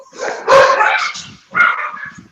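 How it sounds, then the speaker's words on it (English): An anxious female guard dog barks indoors at her owner in the house: a loud, close burst of harsh barking, a brief pause, then a second shorter volley. "My dog likes to get anxious and show that she's a good guard dog and bark at me while I'm in the house."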